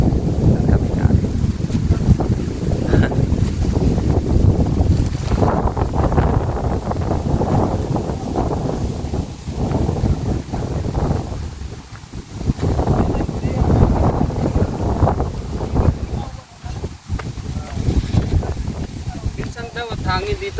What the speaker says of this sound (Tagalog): Ngayon nagkahangin na. Abaw, swerte. May hangin tayo.